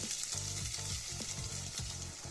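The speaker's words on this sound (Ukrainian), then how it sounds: "Наша вже цибуля з сосисками обжарилася. Висипаємо сюди яйця" Beaten eggs hit a hot pan of fried onion and sausages, giving a loud, dense, continuous sizzle with a few soft stirring scrapes.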